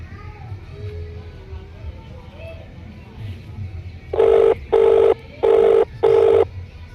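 A phone ringing: four loud, evenly spaced ring bursts close by, following a stretch of quiet background noise.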